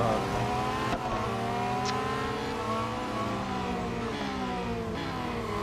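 Race car in Real Racing 3 revving and shifting through gears, engine pitch sweeping up and down loudly and continuously, with a brief tire squeal partway through.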